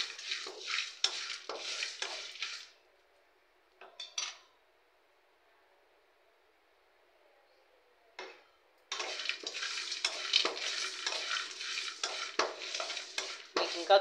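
Roasted peanuts, tamarind and garlic fry in a pan while being stirred. Close bursts of sizzling and scraping stop for a quiet stretch, then resume steadily, with no talking.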